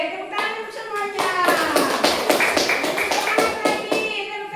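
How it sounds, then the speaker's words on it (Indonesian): Children clap their hands together during a Christian Sunday-school lesson, quick overlapping claps running steadily under excited young voices calling out close by. "Oke, tepuk tangan untuk semuanya."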